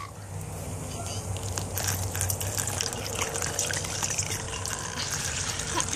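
A gallon of water is poured into a container for homemade root beer, making a continuous splashing, gurgling stream close by that grows slightly stronger as it goes, with faint background voices.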